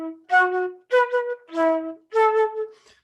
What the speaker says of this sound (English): I'm just going to play you the bass line